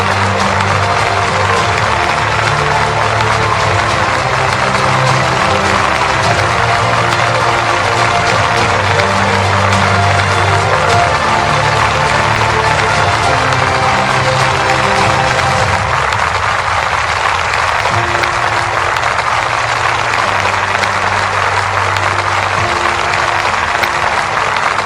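An audience at a Bhopal government ceremony with the Madhya Pradesh chief minister breaks into sustained loud applause, a dense wash of clapping that carries on steadily for the whole stretch.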